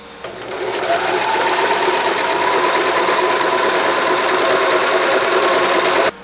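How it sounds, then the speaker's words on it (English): A sewing machine stitches bar tacks to secure a loop on hammock suspension gear, a loud continuous mechanical chatter running steadily for several seconds before stopping abruptly. "to sew a loop, and I usually use 3 bar tacks"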